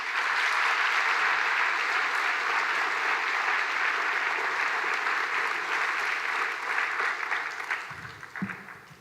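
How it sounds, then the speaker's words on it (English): Audience at a high school graduation ceremony breaks into sustained applause, a dense wash of many hands clapping that holds steady for several seconds before tapering off near the end. "Can we get a quick round of applause for all those wonderful people?"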